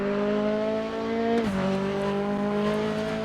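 Mazda MX-5 race car engine in the RaceRoom racing game at Sonoma, a steady loud drone that drops in pitch with a gear change midway, then climbs again as the car accelerates.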